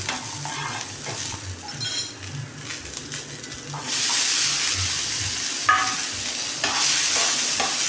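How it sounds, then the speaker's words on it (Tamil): Tomatoes frying in oil in a pan for a country chicken curry are stirred steadily, a close sizzle running throughout with scraping spoon strokes and small clinks against the metal, louder in the second half. "ஒரு ரெண்டு நிமிஷம் அப்படியே நம்ம கிளறி கொடுத்துக்கிட்டே இருக்கணும் அப்போ தான் நல்லா வதங்கும் ஆயில் விட்டு வதக்கணும்"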